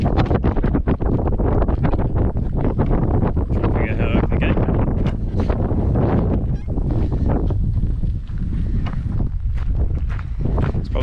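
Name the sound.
wind on exposed hill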